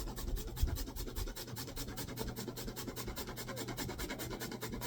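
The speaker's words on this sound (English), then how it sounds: "You just want to grate this over the top. I have a little microplaner here." A Butterfinger candy bar is grated with a small microplane over a bowl of pudding, giving a steady run of quick, close rasping strokes with no talk.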